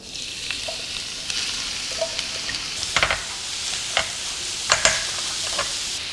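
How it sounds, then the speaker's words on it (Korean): Carrots stir-fried in generous olive oil in a hot frying pan over high heat: a loud, steady sizzle with repeated sharp spatula scrapes and clacks, and no talking. "네, 이제 당근을 볶아 보겠습니다."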